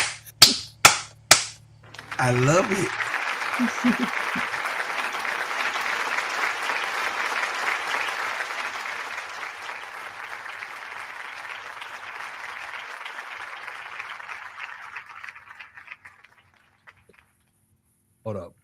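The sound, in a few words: applause for Paige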